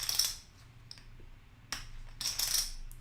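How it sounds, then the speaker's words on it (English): Poker chips shuffled by hand at a table, producing sharp clicky clattering bursts, one at the start, a faint tap mid-way, then two closer clusters of rattling clicks near the end, with quiet gaps between. "Don't you guys wish that you could be shuffling chips with me here?"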